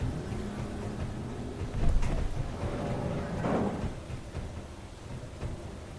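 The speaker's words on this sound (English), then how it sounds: "I think there's a storm happening, but I'm not entirely sure. It's heavy rain." Thunderstorm with heavy rain in the space-building game Space Engineers, a constant rain hiss with a couple of low thunder rumbles swelling partway through, no talk.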